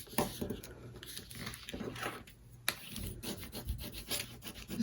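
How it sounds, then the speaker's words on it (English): Folded paper flaps of a 9 by 7 folio being burnished down by hand, soft, uneven rubbing and scraping strokes with light taps, close and quiet, no speech. "bring them over and then burnish that down"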